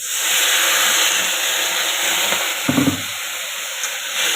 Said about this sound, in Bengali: আমি গরম জল দিচ্ছি, দেখো